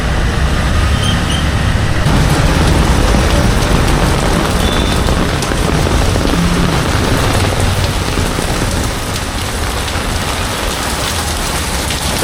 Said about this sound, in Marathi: आता परत पाऊस चालू झाला आहे मित्रांनो